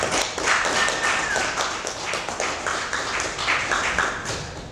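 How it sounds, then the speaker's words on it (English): Small open mic crowd at a bar clapping for a performer, a steady patter of close hand claps and taps that stays fairly even throughout. "Big round of applause for Mark Fleur."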